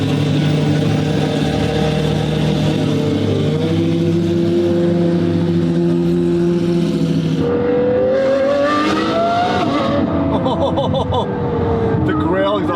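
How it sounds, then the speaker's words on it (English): A car engine and exhaust revving loudly and close by, a steady throbbing drone that climbs in pitch partway through, with voices underneath. "The grill exhaust on that car sounds so crazy"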